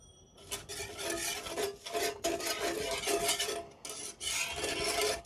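A spoon scrapes and rasps around a pan in repeated strokes, mixing date palm jaggery, sugar and powdered milk for a pudding, close up, with brief pauses and no talking.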